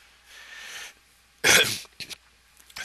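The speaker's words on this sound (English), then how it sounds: "I should probably not cough on the mic anymore" A single sharp, loud cough lands close on a microphone after a soft breathy lead-in, followed by two brief smaller throat noises.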